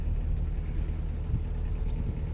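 A narrowboat's engine rumbles low and steady on the canal near Stoak, a close continuous diesel drone with no clear rise in pitch.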